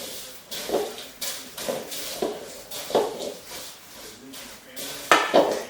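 Dry muffin ingredients mixed in a bowl, with a series of soft rhythmic scrapes and taps of a utensil against the bowl roughly every second, close but fairly quiet.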